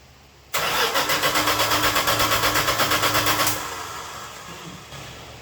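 A 1974 Dodge Dart Sport that has sat for 22 years cranks over with a loud, steady rhythmic starter churn for about three seconds, then stops without catching, leaving faint rustling afterward.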